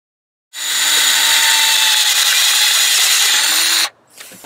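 A power drill bores into a Land Rover Discovery 3 EGR actuator in one loud, continuous whine lasting about three seconds, close up, followed by brief faint handling noises.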